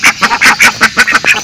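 Chickens at a coop giving a run of short, loud, honking calls, about eight in quick succession, close by with no talking.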